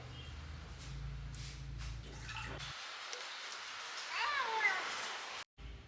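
A cat waiting for sardine fish heads gives a brief meow near the end, quiet and close, over faint kitchen shuffling and a low hum.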